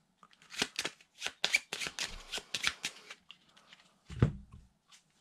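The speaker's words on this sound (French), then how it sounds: "Et je vais tirer piocher une petite carte." Cards handled from a board game deck during a solo game of Twilight Inscription, a series of crisp close riffling and sliding snaps followed by a softer thud, with no talking.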